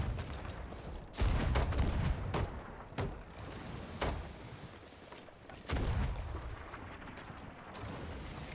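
Cannon fire in the pirate game Sea of Thieves, several loud booming blasts at irregular intervals, with the heaviest hits near the start and again later, over a constant rumbling ocean background.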